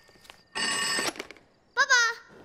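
A telephone rings indoors, one loud half-second burst of ringing, followed moments later by a short high-pitched child's vocal sound.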